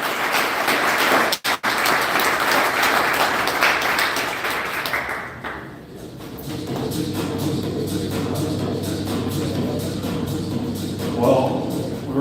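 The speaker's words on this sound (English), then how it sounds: "And let's give Jonnie a round of applause as well for putting on this industry event." A crowd applauding at an industry event, with dense, steady clapping that thins out partway through and gives way to a quieter murmur of voices and scattered noise.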